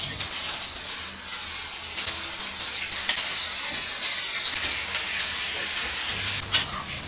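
Chicken pieces fry in hot cooking oil in a pan, giving a loud, steady, close sizzle with a few brief crackles and no voices.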